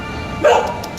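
A single short dog bark or yip sounds once, close by, over a faint background hum.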